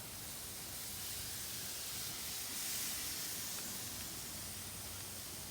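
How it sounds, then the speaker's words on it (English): Steaks sear on a grill heated to around 600 degrees, giving a steady, faint broadband sizzle and hiss that holds evenly throughout with no talk over it. "we are gonna throw these on and sear them for about 3 minutes aside"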